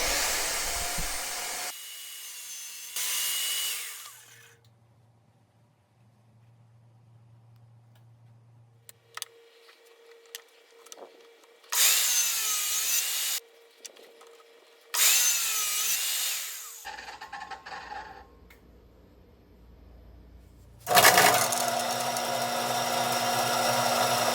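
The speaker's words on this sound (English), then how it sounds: "I'm going to use the table saw to remove most of the material from the 2x2" Table saw ripping a wooden 2x2 in several separate passes, each cut a loud, broadband whine with quieter motor hum and gaps in between.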